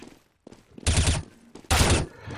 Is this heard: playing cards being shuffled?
no